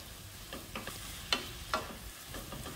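Pieces of smoked meat sizzle and fry in a pan while a utensil stirs them, producing soft scraping taps at irregular intervals over a steady hiss, close and fairly quiet.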